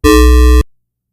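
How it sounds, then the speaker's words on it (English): A single held note of square-wave synth bass for bass house, a loud buzzy tone with bright harmonics that lasts about half a second, then cuts to silence. "You can use like a square wave."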